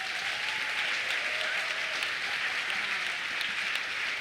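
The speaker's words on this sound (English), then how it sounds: "One more round of applause for all our storytellers tonight." Audience applause for storytellers at a live show, a dense, steady wash of many hands clapping at moderate distance, unbroken for the whole stretch.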